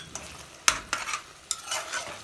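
Ginger garlic paste is stirred and fried in a pan for an Andhra-style chicken masala, with a soft sizzle under several close scraping spoon strokes at an irregular rhythm.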